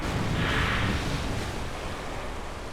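Ocean surf and wind after a spacecraft splashdown in Kerbal Space Program, a steady broadband wash that fades slightly toward the end with no talk over it.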